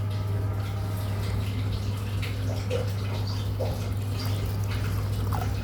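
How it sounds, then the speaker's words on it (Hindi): About a cup of water is poured into a mixer jar for a beef and green chickpea curry paste, a continuous trickling and splashing over a steady low hum, with a few drips near the end. "अब हमने इसमें पानी शामिल कर दिया है 1 कप जितना"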